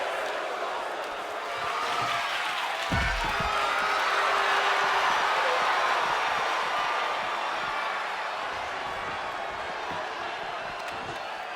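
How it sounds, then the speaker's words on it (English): A wrestling arena crowd at an ECW event boos in a steady, broad roar that swells and holds throughout, with a thud from the ring and a commentator talking over it. "To which the fans start booing."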